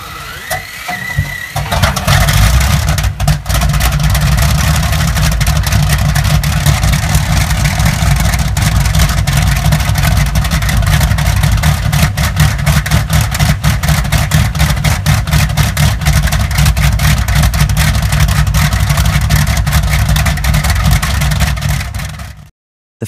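A Bristol Hercules sleeve-valve radial aircraft engine catches and runs loud and close, settling into a steady, dense roar with a rapid pulsing beat that holds for about twenty seconds before stopping abruptly.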